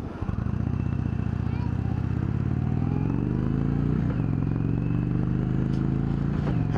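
An Indian Springfield Dark Horse motorcycle with a cable-operated clutch accelerates hard nearby, its loud engine rising steadily in pitch through the gears with a brief dip at a shift.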